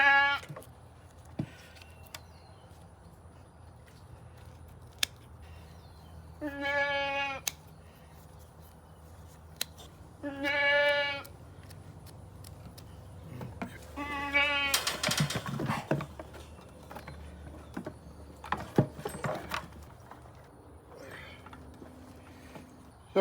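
Goats on a farm bleat in several separate bursts, a few loud and close, with rustling, handling noises and brief scattered sounds between calls.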